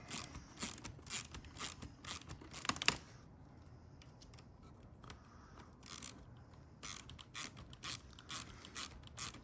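Kingpin bolts come out of a steering knuckle on a Vanquish SCX6 RC crawler, with bursts of close, fast ratcheting clicks from a small driver, a short quiet pause, then more ratchet bursts.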